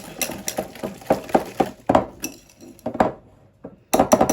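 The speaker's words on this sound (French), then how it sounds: "Et j'ajoute un œuf qui pèse 50 g. Et je peux fouetter." An egg being whisked into a hazelnut-powder mixture in a bowl, rapid clinking strokes of a whisk against the bowl in uneven bursts with short pauses, close and clear.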